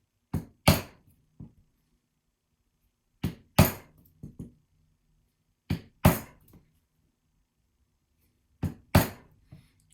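Hand punching holes in leather mitten gauntlets for SCA combat: four sharp strikes of a mallet on a punch, mostly paired blows with a few lighter taps between, spaced by quiet pauses and close by.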